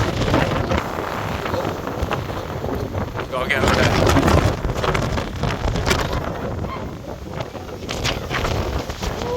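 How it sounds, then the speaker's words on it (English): Strong wind buffets a microphone on a sunny hilltop climb, a loud, continuous roaring rumble with gusts that swell and fade, while a person speaks briefly over it. "Very windy."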